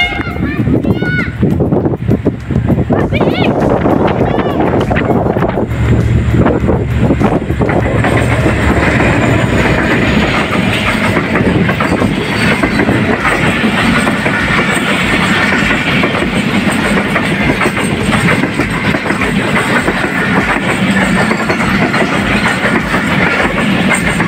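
Train rolling through Palijani railway station in India, a loud, continuous roar of wheels and cars with rhythmic clatter sustained for the whole stretch, close by, with a voice speaking faintly near the start.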